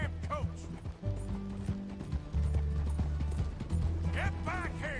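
Hooves of a horse-drawn coach in a PS4 video game clop steadily alongside mechanical rattling and creaking wheels, with a low rumble underneath and a brief voice near the start.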